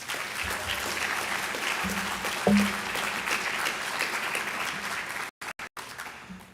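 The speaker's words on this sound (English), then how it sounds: "If you can give them a round of applause." A school scholarship and awards assembly crowd gives sustained applause, steady clapping from many hands filling the room for about five seconds before cutting off abruptly, with a few brief voices faintly under it.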